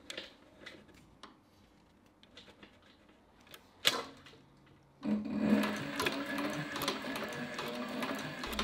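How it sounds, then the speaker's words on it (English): A Cobra Class 4 leather sewing machine starts up midway, stitching scrap leather with a rapid, steady mechanical chatter, close and loud, after a few quiet handling clicks. "we have some scrap leather that we will increase the lever while sewing to show you some real-time stitch length adjustments"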